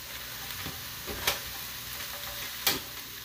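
Butter melts in a pan over medium heat, giving a soft steady sizzle and crackle close by, with a few sharp ticks of utensil against the pan; no one speaks.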